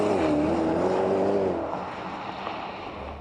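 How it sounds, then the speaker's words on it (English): A 2010 Porsche Panamera accelerates hard toward 100 km/h, its engine note climbing steadily and loud, then easing into a broad rushing roar as the run continues. "We're going to find out exactly how fast this Panamera is to 100k."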